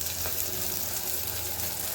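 Cumin and red chili powder sizzle in hot oil for a ridge gourd curry, giving a steady, close, unbroken hiss with no talk.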